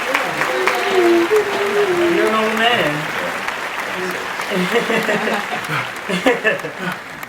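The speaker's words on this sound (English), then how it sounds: "Let's clap it up for his birthday." Studio audience clapping for a birthday on a lounge talk show, sustained applause with light laughter beneath voices talking over it, then fading out as conversation continues.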